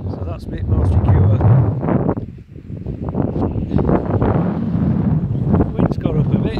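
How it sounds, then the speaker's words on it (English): Gusty wind buffets the microphone at a lakeside wild camp in the Lake District, a loud rumbling roar that swells and briefly drops, with people talking over it. "Wind's got up a bit."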